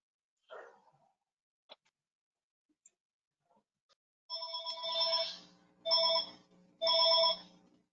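A telephone rings during a council meeting, three loud repeated ring bursts coming after a few faint clicks and taps in an otherwise quiet room, with no talk.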